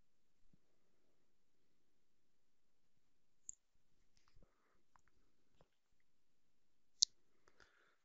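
A computer mouse clicks a few times, faint and sparse with long quiet gaps between the sharp, isolated clicks.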